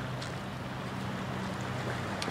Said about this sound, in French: Scooter des mers en bande, donc ils sont 5.